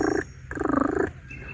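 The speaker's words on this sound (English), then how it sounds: "purring. That's what turkeys do to calm" Two bursts of low, rattling purr-like trilling from a nearby wild turkey tom, the second longer, followed by a brief higher note.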